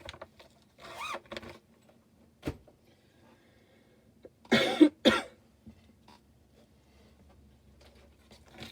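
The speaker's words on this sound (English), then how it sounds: "why I can't stop coughing" Several short, dry coughs break a quiet room, a couple early and a louder double cough near the middle, with faint clicks and movement between.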